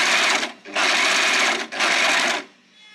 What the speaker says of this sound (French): Donc je vais les fermer et les surjeter.